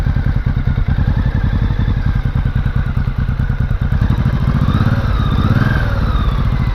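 A Honda Shadow motorcycle engine idling nearby, a loud, steady, rapid thumping pulse that holds evenly for several seconds, with no talk.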